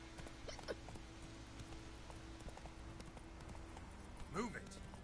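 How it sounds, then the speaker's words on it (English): Hooves clip-clop in a steady trot as a horse moves through the Witcher 3 game world, a soft regular beat under a low game ambience, with a brief squeak or whinny-like call near the end. "Hop on that horse."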